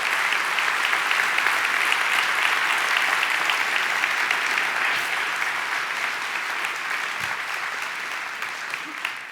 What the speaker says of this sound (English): please stand so that we can give you a strong round of applause for your excellent example